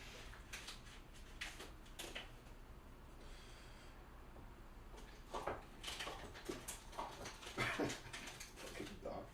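A dog whimpers and snorts in short, uneven bursts during a Final Girl game session, fairly close and moderately loud, with a louder cluster of whines toward the end over a low steady background.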